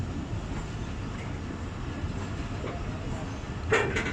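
Jaffar Express passenger train pulling out of Okara railway station, a steady low rumble of rolling carriages filling the scene, with a brief brighter clatter near the end.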